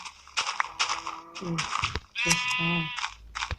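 Sheep in the Minecraft video game bleat several times while being sheared with shears, the short nasal cries interleaved with someone talking over them.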